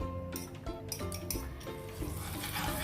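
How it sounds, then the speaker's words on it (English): Butter stirred into melted sugar in a pan for butterscotch sauce: close spoon scraping and clinking against the pan with a soft sizzle underneath, in irregular strokes. "we'll add butter to it"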